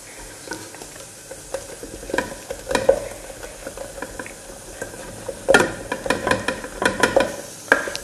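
A spoon stirs a thick solid shampoo mixture in a bowl, with irregular close scraping and tapping strokes that come in uneven bursts and grow busier toward the end, with no talking.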